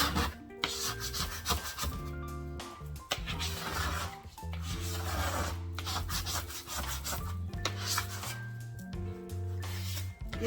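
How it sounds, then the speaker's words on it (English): A bench scraper scrapes a kitchen countertop clean in a series of close, gritty scraping strokes that keep going for about ten seconds, with no voices. "let's use our bench scraper and do a really fast cleanup"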